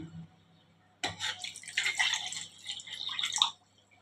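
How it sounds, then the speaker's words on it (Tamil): A cup of water poured into semolina batter, starting abruptly after a quiet moment as a splashing, gurgling pour that runs for about two and a half seconds before trailing off into a few drips. "இப்போ அதே கப்லேயும் நம்ம 1 கப்பு தண்ணி சேர்த்துக்கலாம்"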